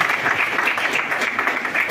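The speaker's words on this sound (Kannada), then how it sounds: "ಅವರಿಗೆ ಒಂದು ಚಪ್ಪಾಳೆಯ ಮೂಲಕ ಸ್ವಾಗತವನ್ನು ನೀಡುತ್ತೇನೆ." An audience at a Kannada public event applauds to welcome a speaker: a short, dense burst of many hands clapping at once, loud and close, forming a continuous rushing wash without separate beats.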